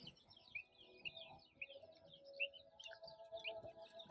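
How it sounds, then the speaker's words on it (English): Birds chirp and tweet in a steady, busy chorus, fairly faint, over a low indoor hum and scattered background clatter inside a Rural King farm store. "So I can hear some birds right now."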